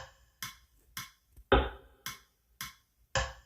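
A drum kit built from paper towel roll samples, boosted in lows and highs with reverb added, plays a sparse beat of short thumps and crisp taps, one deeper hit in the middle, loud and close with no talk.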